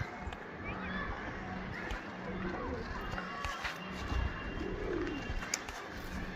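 Pigeons coo softly among fluttering and rustling, with people talking nearby and occasional footsteps.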